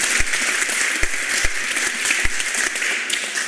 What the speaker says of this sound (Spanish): Bien, un aplauso para él.